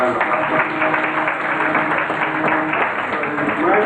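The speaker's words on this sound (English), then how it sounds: "I think we should give her another round of applause." Audience applause fills a hall during an inaugural lecture, a dense, steady wash of clapping held at an even level throughout, with some voices mixed in.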